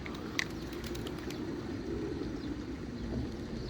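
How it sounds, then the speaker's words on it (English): Pigeons gathered around people outdoors near military grounds, cooing softly and continuously in a low murmur close by, with steady ambient wind and background noise and no talking. "Why are so many pigeons around us?"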